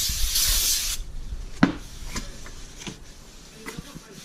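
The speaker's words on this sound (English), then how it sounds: "Another shot of brake clean, just get all the oil on there that protects it." Brake cleaner sprayed onto a new front rotor of a 2013 Dodge Challenger R/T: a close, loud aerosol hiss lasting about a second, then a series of scattered rubbing and wiping strokes as the rotor is cleaned.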